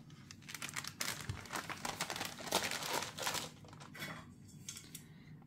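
Baking paper crinkles and rustles as the top sheet is peeled away while a spring pie with nettle and cheese is assembled, a close run of crackly, uneven crumpling bursts.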